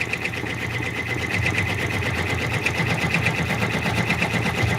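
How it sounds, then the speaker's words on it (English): An in-the-hoop embroidery machine stitches a raccoon stuffed toy through several stacked fabric layers. It gives a fast, steady mechanical whir with a rapid pulse from the needle, close and continuous, and nobody speaks. "here you can hear the machine making a different sound because there are quite a few layers over here"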